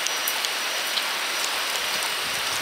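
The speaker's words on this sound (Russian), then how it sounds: "Тропические ливни," Tropical downpour in Thailand, a dense, steady hiss of heavy rain pounding surfaces close by, unbroken and with no voices.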